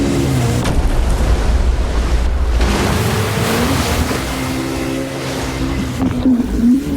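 Loud engine rumble from a 2022 Polaris RZR Pro R side-by-side with a naturally aspirated engine, revs rising and falling, steady throughout with a deep low drone and shifting higher tones, no voices.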